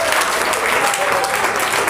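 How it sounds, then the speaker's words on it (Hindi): Students in a high school chemistry class clap together in a quick, dense burst of applause that fills the room, steady and close for its full length. "यस, वेरी गुड, ताली बजाओ इसके लिए"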